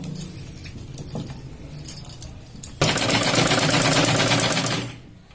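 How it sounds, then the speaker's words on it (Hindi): A sewing machine stitches blouse fabric after some handling rustles and clicks, then runs in a loud steady rapid whir for about two seconds before winding down. It is close up and there is no talking. "फिर इसको इस पे रख के सिलाई लगाएंगे।"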